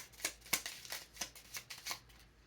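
Small cards are shuffled in quick riffling bursts, about eight crisp papery flicks in a loose rhythm, close and fairly quiet, with no talk.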